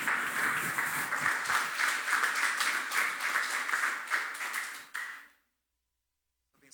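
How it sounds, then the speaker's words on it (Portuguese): A church congregation applauds during a Portuguese-language worship service, a thick, steady burst of many hands clapping that runs about five seconds and then cuts off into silence. "Vamos aplaudir o Senhor mais uma vez"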